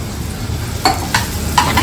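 Green chillies and masala frying in a pan for drumstick fry, a constant loud sizzle broken by three scraping stirs of a spoon, without talk.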